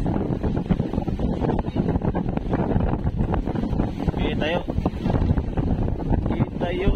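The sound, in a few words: wind on a boat on the Pacific Ocean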